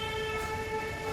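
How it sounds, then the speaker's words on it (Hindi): A vehicle passes on a street beside a park in a residential area of Janakpuri, West Delhi: a steady, droning engine hum with a sustained horn-like tone, moderately distant, with no talking. "ये देखिए गाड़ी भी जा रही है, आवाज़ आ रही है"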